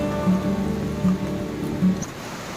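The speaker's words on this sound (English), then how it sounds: "and again it has started to drizzle." Light drizzle patters steadily on a rocky mountain trail during a trek, a soft continuous hiss of rain with a few heavier gusts, fairly close and even throughout.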